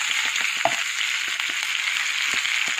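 Semolina-coated pomfret fries in a pan with a steady, faint sizzle, broken by a few soft pops and light crackles.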